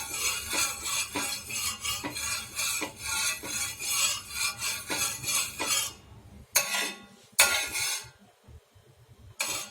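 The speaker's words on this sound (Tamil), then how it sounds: "நல்லா கல் சுற்றி ரவுண்டாக வர மாதிரி நீங்கள் எண்ணெயை அப்ளை பண்ணி விட்ருங்க." Oil spread around a hot griddle stone before frying a half-boiled egg, heard as a rapid, rhythmic metallic scraping and rubbing, close and loud, breaking into a few separate strokes near the end, with no talking.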